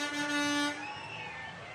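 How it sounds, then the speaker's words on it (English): Parade float trucks sounding their horns during a downtown Christmas parade, a steady sustained honk with rich harmonics that holds loud for most of a second, then fades into a softer, thinner tone. "I can hear the horns and the music, so that's awesome."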